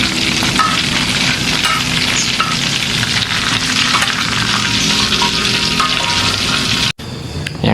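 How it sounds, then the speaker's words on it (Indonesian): Chili peppers sizzle and crackle loudly in hot oil as they fry for sambal, a dense steady hiss with occasional stirring, cut off briefly near the end before resuming. "sekalian goreng cabai buat sambal"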